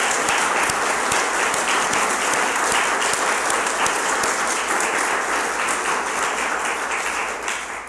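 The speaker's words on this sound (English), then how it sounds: "Can we give them a round of applause?" A church congregation applauds a choir at a Sunday anniversary service, steady dense clapping sustained throughout and tapering slightly at the end, with no voices over it.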